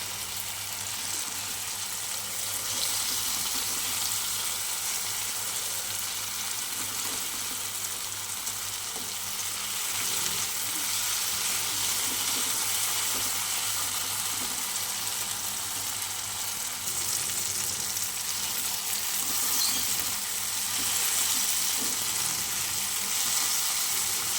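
Eggplant slices fry in oil with a steady, bright, close sizzle that holds at an even level throughout, with faint stirring touches and no talking.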